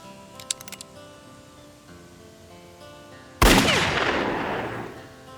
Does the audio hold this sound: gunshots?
yes